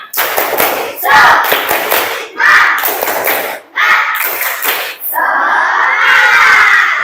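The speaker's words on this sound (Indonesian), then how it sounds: "Semangat dulu. Tepuk semangat." Schoolchildren in an Indonesian classroom perform a rhythmic "tepuk semangat" clapping chant, loud and close, with bursts of clapping and shouted chanting in several phrases, ending in a sustained group shout.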